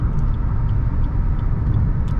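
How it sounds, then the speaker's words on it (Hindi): Maruti Suzuki XL6 automatic cruising on a highway at about 2610 RPM, heard from inside the cabin as a steady, loud low rumble of engine and road noise with no breaks. "2610 RPM पे बेहतरीन चल रही है गाड़ी और रिलैक्स चल रही है"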